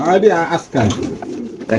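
Racer pigeons at a pigeon farm coo loudly and close by in short rolling bursts, with someone talking over them.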